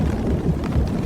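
Rain pattering at night over babbling water around a small rowing boat makes a dense, low, rumbling wash that stays steady through a brief moment.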